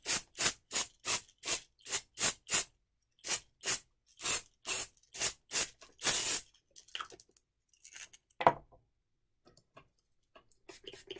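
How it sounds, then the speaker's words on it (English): A spray bottle hisses in about a dozen quick, evenly spaced squirts, then one longer spray, followed by faint rustling and quiet. "I'm gonna spray that over it."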